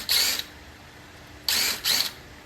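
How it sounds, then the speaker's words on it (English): Power drill driving screws into a treated wooden porch chair, three short high-pitched whirring bursts, one then a pause and two close together, loud and near with no talk. "I can go ahead and drive both of these screws all the way in."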